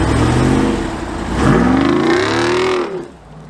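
A Jeep Wrangler Rubicon 392 V8 drives past off-road, its engine rising in pitch as it revs and approaches, then fading away as it passes by, loud and close.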